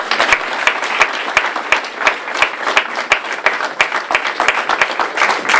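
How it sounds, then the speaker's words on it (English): Audience applause at a community center ribbon cutting, a dense, steady round of clapping from a room full of people, close and lively throughout. "give yourselves a round of applause"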